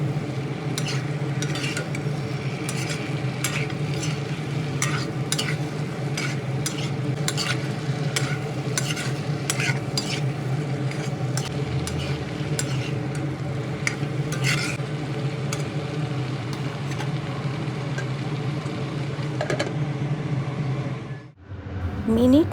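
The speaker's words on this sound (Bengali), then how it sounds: "এবার এর মধ্যে সেদ্ধ করে রাখা ওলকপি দিয়ে আবারও ভালোভাবে নেড়ে চেড়ে মিনিট 5 সময় ধরে ঢেকে কষিয়ে নেব।" Kohlrabi, boiled ahead, is stirred into a shrimp curry in a pan: steady close sizzling and frying with repeated spoon scrapes and clatters against the pan, continuing without break before a brief pause near the end.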